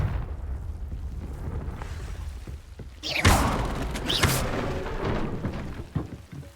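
An explosive Confringo spell cast in Hogwarts Legacy lands as a sudden loud blast with a fizzing burst, followed by a second crackling flare and rumbling over a low ambient game backdrop.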